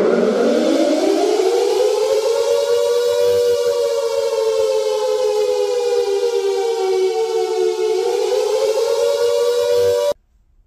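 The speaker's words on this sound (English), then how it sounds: "all 3 of these sirens were horizontal 10-12 port designs" British Cold War air raid siren of horizontal 10-12 port design wailing continuously, its loud rising and slightly wavering tone holding for about ten seconds before stopping abruptly.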